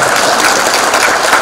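Dense, steady applause from a large audience at a formal Halalbihalal gathering, loud and continuous throughout, with no speech over it.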